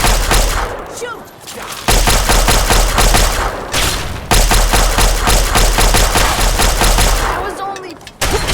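Bursts of rapid gunfire and loud shooting fill a Fallout 3 firefight, dense and continuous with a couple of brief pauses, close and dominant.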